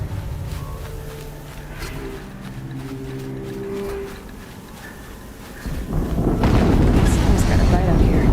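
Explosion in the video game Horizon Zero Dawn, a loud low rumbling blast that erupts near the end and keeps booming, preceded by speech.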